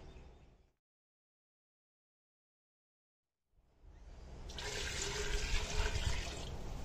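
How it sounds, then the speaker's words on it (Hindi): After a few seconds of silence, water starts pouring steadily into a pressure cooker, the rushing sound swelling louder and continuing without pause. "साथ ही इसमें मैंने 2 लीटर पानी डाला।"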